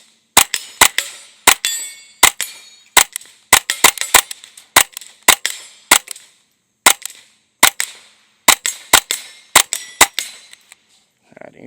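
Smith & Wesson FPC folding .22LR rifle firing a mix of supersonic and subsonic rounds: around two dozen sharp, loud reports in uneven bursts with short pauses, each cracking cleanly with no talk over them.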